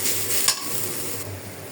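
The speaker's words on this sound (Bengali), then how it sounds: "দিয়ে দেবো একটু হালকা হলুদ আর লবণ। আমি কিন্তু পেঁয়াজগুলো একদম ভাজা ভাজা করবো না, শুধু সিদ্ধ করব।" Onions with a little turmeric and salt simmer softly in a pan, a steady low sizzle with a light stir partway through, close and fairly quiet.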